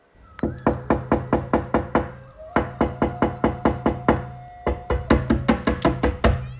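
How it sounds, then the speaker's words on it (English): Rapid, frantic knocking on a door comes in three loud, close bursts of evenly spaced raps, each run lasting a couple of seconds with brief pauses between. "Suddenly, a frantic knock echoed at her door."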